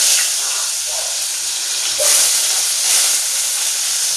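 Garlic sizzles in a hot pan with a bright, constant hiss of frying, close and fairly loud, swelling slightly a couple of times, with no voices over it.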